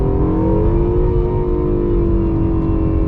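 A 2020 Acura NSX V6 supercar holds its revs high, giving a loud, continuous engine note with steady harmonic tones that rise slightly, close and sustained throughout with nobody speaking.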